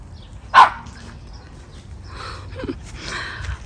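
A single short dog bark close by, followed by quiet rustling and faint movement sounds.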